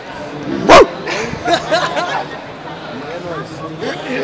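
A person gives one short, loud bark-like yelp imitating a dog, followed by chatter and laughter from several voices nearby.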